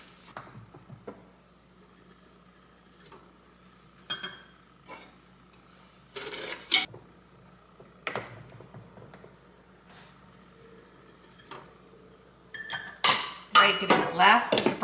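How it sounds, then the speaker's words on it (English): A spoon scrapes and clinks against a pot as dark brown sugar is stirred into melting caramel for old-fashioned dark chewy caramels, giving intermittent bursts of clatter with quiet gaps between them and a busier run of scraping at the end. "I'm just gonna stir it in 1/2 cup at a time."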